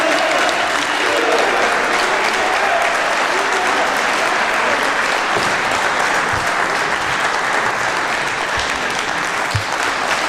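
A capacity crowd at a professional wrestling match in Lawrence, Kansas roars with sustained applause and cheering, a dense, loud wash of clapping and shouts that holds steady across the whole stretch.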